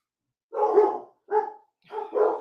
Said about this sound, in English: Lord, these dogs are fighting for real.